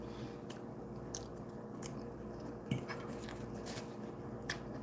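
Close, crisp chewing and biting on fried chicken wings, with irregular crunches and a few clinks of cutlery on a dish, with no talking.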